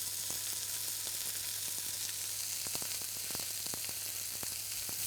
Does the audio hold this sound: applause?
no